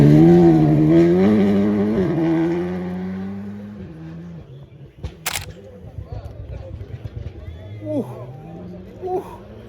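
A rally car on a WRC Portugal stage roars past loudly, its engine note climbing and then fading into the distance, followed by a camera shutter click and scattered quieter noises.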